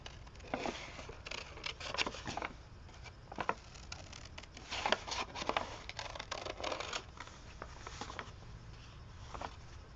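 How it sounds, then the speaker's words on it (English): Scissors snip irregularly through paper as a large flower shape is cut from a coloring page, giving soft, close, crisp cuts and rustling with no talk. "Let's just go ahead and cut this one big flower out."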